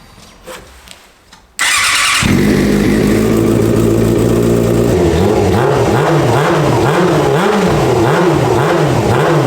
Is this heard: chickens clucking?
no